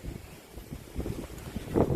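Strong wind gusting over open water at a remote fishing spot in Kaeng Krachan, with a steady blustery rumble and a louder swelling gust near the end.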